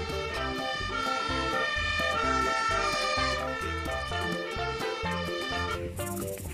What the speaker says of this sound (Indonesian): Fire truck ya teman-teman